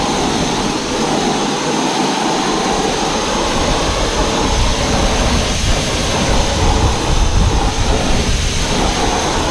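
Water from a hose sprays onto a car wheel to rinse off wheel cleaner, a loud, continuous, broad rushing hiss that stays close and steady throughout.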